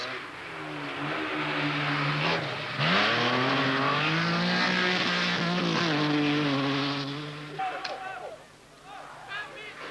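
Rally cars race through the final stretch toward Gothenburg at the 1970 KAK Rally in Sweden, a sustained engine drone with pitch sweeps as the cars pass, fading near the end, with a commentator talking over it.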